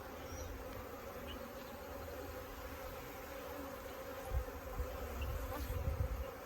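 Honey bees from a package are being installed into a top bar hive. Their dense, steady buzzing swarms close by, with a few louder low bumps and handling noises near the end.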